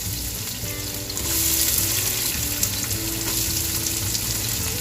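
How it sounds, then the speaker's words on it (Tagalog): Chopped onions hit butter and oil in a pan for Pampanga-style bopis, and a steady, close sizzle swells louder after about a second and holds bright and even to the end. "Lagay na natin yung sibuyas."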